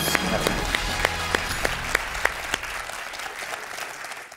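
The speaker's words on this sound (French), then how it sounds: "Il applaudit Jean-Charles, il a raison, c'est la bonne réponse" The studio audience of the French quiz show Questions pour un Champion claps after a correct answer, producing a close burst of applause with sharp, regularly spaced hand claps that fades out.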